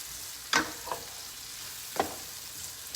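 Leeks and onions frying in a pan while being stirred, with a soft steady sizzle under a few sharp scraping strokes of the utensil, near and alone.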